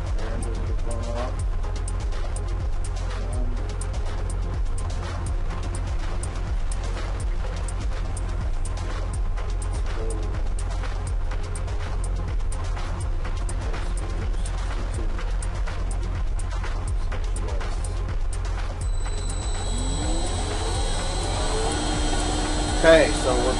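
An electric motor on a generator rig spins at about 3,400 RPM, giving a loud, constant drone and whine throughout, with a rising tonal sweep joining near the end.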